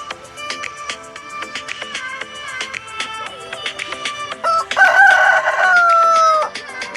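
Chickens cluck and chirp steadily at an agricultural farm and orchard, then a rooster lets out a loud, drawn-out crow near the end, close and clear.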